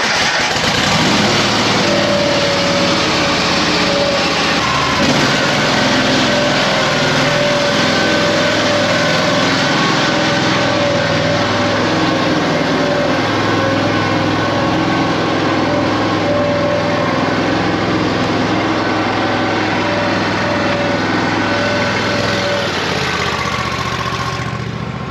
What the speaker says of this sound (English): So here's the 38 horsepower Kohler cold start.